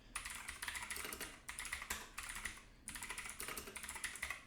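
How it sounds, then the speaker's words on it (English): Fast typing on a computer keyboard while writing Java code, with rapid clicky keystrokes in bursts separated by brief pauses, close and fairly quiet. "You go to type a bunch."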